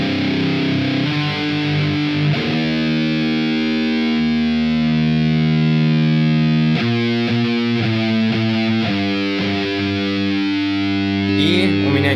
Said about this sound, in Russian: слушаем, что у нас играет гитара, которая с дисторшеном